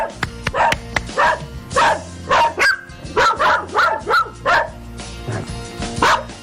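Several dogs bark repeatedly at visitors arriving at a rural property, a close, loud string of sharp barks and yips in irregular bursts, with a brief whimper between them.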